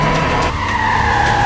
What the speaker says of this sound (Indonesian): langsung membuat mobil yang membawa si Suwon tergelincir